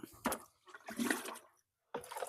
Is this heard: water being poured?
yes